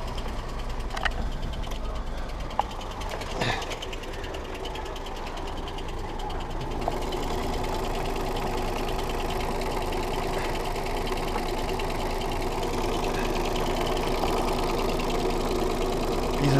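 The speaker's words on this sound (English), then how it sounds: "let's see what sounds will the car make when I start it up" A Smart car's small engine idles steadily close by, with a continuous low rumble and a persistent metallic rattling running through it.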